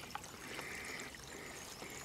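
Shallow woodland stream in France flowing steadily, a soft continuous trickling and burbling of water, faint and close, with no voices.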